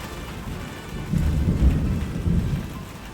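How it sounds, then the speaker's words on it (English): A thunderstorm with heavy rain, a continuous wash of rainfall under deep rolling thunder that swells twice, loud and close, with no voices. "We've got the thunder and lightning already giving its own Rain show."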